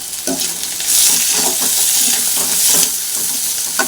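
Loud, close frying in a pan with tamarind just added, a continuous hissing sizzle with repeated stirring scrapes throughout.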